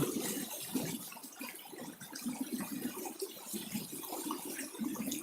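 Floodwater rushes over rapids at Ban Na Wiang Kham Siri in Yasothon province as a continuous, fairly faint, churning flow with no pauses and no speech.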